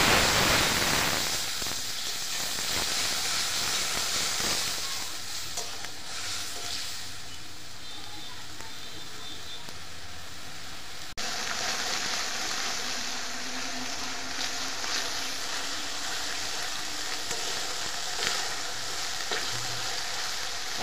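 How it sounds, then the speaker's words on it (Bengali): Ginger-cumin paste sizzles steadily in hot oil in a pan while cooking mashkalai dal, a continuous loud hiss that flares up partway through, with occasional stirring. "এর মধ্যে দিয়ে দেবো আমরা আদা জিরে বাটা"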